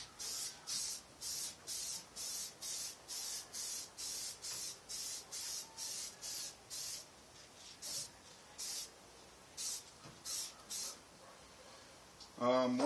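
Spray paint hisses from a rattle can in a run of short, evenly spaced bursts laid onto an RC car body as a heavier second coat, with brief pauses between and a few scattered final bursts.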